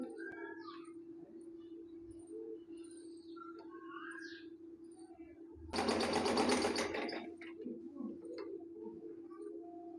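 A sewing machine stitches the upper part of a girl's frock in one short loud burst that runs for about two seconds midway through, while birds coo and call quietly under a steady low hum.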